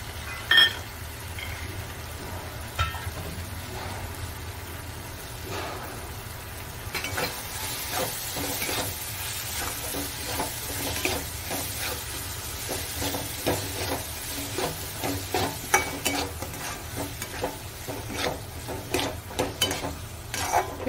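Peanuts stirring and frying in a pan with coriander, a steady soft sizzle broken by repeated scraping stirs that become more frequent and louder after the first several seconds.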